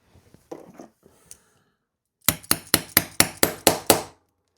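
A hammer strikes rivets into a Zara crossbody bag in eight sharp, evenly spaced blows. A few faint handling clicks come before them.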